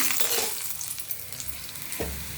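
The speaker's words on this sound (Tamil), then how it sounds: "வடகம் போட்டு ஆஃப் பண்ணிடலாம், ஏன்னா அந்த சூடுலேயே அது வறுபட்டுடும்" Vadagam, a sun-dried condiment, frying in hot oil for a kuzhambu, giving a steady soft sizzle with faint crackles and a couple of brief stirring scrapes, close by and without talk.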